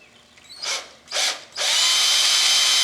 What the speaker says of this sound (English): So I think if I drill me a hole, 1/8 inch hole about right here